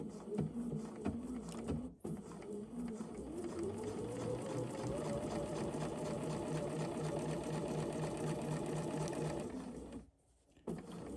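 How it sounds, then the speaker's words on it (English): A sewing machine running a straight stitch in one long, steady whirring burst of rapid needle chatter, close and fairly loud, with brief pauses at the start and end. "And then we're just going to do a straight stitch."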